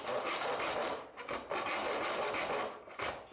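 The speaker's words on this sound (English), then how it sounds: "we can carefully trim off the unneeded plastic" Plastic being trimmed off a Ford Focus ST car airbox, a steady close rasping, rubbing scrape that runs almost continuously with a few brief pauses.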